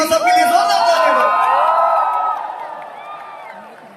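A crowd at a film music album launch event erupts in loud cheering, whoops and shouts with some clapping, close and full at first, then tapering off over a few seconds.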